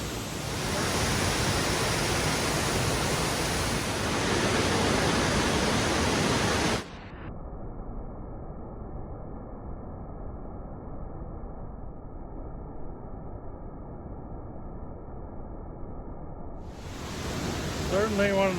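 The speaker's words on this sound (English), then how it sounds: "This waterfall flows same rate all year long because it's spring fed." A spring-fed waterfall gives a broad, steady rush that drops sharply to a quieter, thinner hiss after about seven seconds and then swells back near the end.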